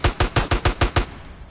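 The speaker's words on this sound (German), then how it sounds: "Das Gute ist, die schießen jetzt nicht nur auf mich, die Ballers." Gang members fire a rapid burst of about seven loud, evenly spaced gunshots in GTA San Andreas, close and punchy, then the shooting stops.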